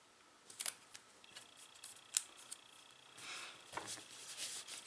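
Scissors cut through scrapbook paper for an Easter egg layout in a few faint, close snips and crisp rustles over a quiet background.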